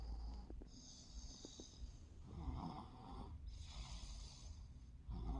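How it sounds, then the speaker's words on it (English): A young boy snores softly in a quiet room, with several slow, rasping breaths repeating at an even, sleepy rhythm and no talking. "My son is snoring."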